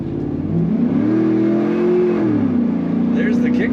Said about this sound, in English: There's the kickdown, definitely working on that automatic transmission.